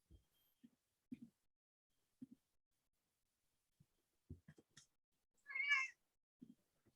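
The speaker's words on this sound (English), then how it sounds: "I think my cat's got something to say" A house cat meows once, clear and fairly close, during a quiet stretch of an online group call, with scattered faint voices and small knocks around it.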